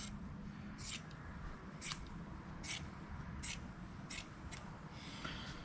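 Scissors cutting fibreglass cloth while repairing fibreglass motorcycle fairings, a steady series of crisp snips spaced about once a second, close and fairly quiet over low background hiss.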